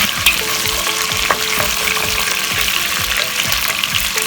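Mutton for nihari browns hard in a hot pan, a loud steady sizzle running throughout with regular scraping stirs every half second or so, close up and with no voices.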